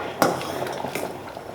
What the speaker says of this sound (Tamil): மசாலா ஊற்றிங்க நல்லா கலக்கி விடுங்க.